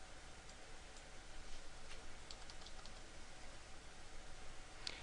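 Light, steady clicking of keys as a part number is entered on a computer keyboard in planning software, faint and close with no talk.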